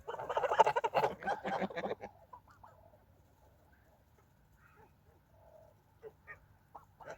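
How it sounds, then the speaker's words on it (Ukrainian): Farmyard geese, ducks and chickens call out, a loud burst of overlapping honks and squawks up close for about two seconds, then quieter scattered clucks and chirps further off. "Гусюні, качуні, куруні"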